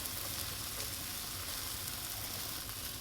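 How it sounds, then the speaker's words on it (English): Onions fry in a pan for a meat lovers pizza burger, a steady, fairly quiet sizzle that continues evenly throughout with no voices. "You can add raw, but I'll just cook some onions anyway."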